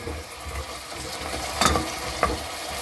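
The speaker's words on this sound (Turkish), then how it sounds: "Hemen içerisine fasulyemi koyuyorum" Fresh green beans drop into lightly fried onions in a pan, a soft continuous sizzle with a couple of sharp stirring scrapes and clinks near the middle.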